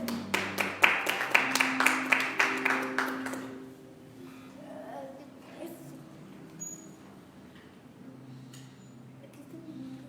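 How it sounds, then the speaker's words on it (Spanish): A church congregation claps in worship, a fairly quick, regular burst of claps over about three and a half seconds, then a quiet room with faint movement. "Dale un aplauso al Señor."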